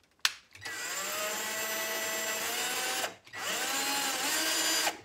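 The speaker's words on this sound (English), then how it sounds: "now I'm going to drill where the pencil holes are" A power drill bores holes into a wooden buffet door, two sustained whirring bursts of about two and a half and two seconds each, close and steady, separated by a brief pause, with no talking.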